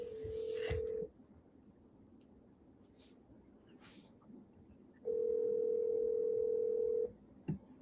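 Phone ringback tone heard through a handset, two long steady electronic rings separated by a pause, moderately loud and close, with faint background noises between them.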